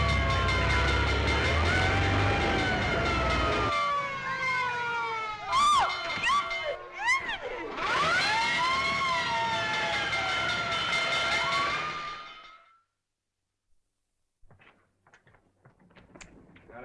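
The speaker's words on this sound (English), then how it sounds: "looks as if I finally get my ride on a fire engine" A fire engine siren wails in rising and falling sweeps, loud and close along with rumbling traffic for about twelve seconds, then cuts off to near silence broken by faint scattered noises, in an old 1937 film soundtrack.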